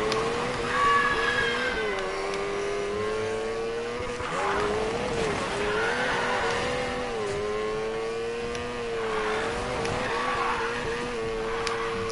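Lamborghini race cars in the video game Need for Speed Payback roar continuously with engine whine shifting pitch as they accelerate and change gears, tires squealing in places, loud and sustained throughout.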